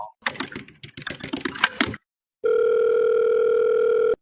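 Quick rapid clicks like buttons being pressed, a brief pause, then a steady, loud continuous telephone tone that holds to the end.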